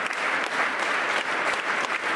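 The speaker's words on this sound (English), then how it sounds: "However, they did not stop clapping." A large church crowd at a Guinness world record gathering with Apostle Grace Lubega claps continuously, a thick, even roar of many hands with no talking on top.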